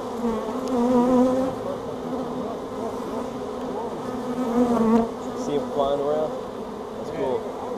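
A swarm of honey bees hums as many insects circle a tree branch outdoors, a dense steady buzz with individual bees whining close past the microphone.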